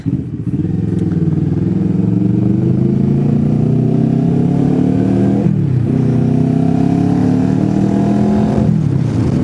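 Close, loud Kawasaki Versys 650 two-cylinder motorcycle engine revving through rising pulls, with two brief drops between them, a continuous throaty drone with no voices.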